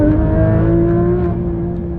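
A Porsche 911 GT3 RS engine fitted with straight pipes holds a loud, steady high-pitched howl with a strong tonal whine and rich harmonics, close and unbroken throughout.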